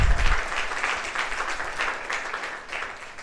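A room of coaching-class students applauds their teachers on Teachers Day, a dense burst of clapping that is loudest at the start and then carries on steadily before easing slightly toward the end.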